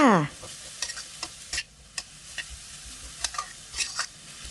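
Sweet preserved radish filling is stir-fried in a pan for sago dumplings with pork filling, giving a faint steady sizzle broken by sharp spatula scrapes and taps against the pan at irregular intervals, with no talking.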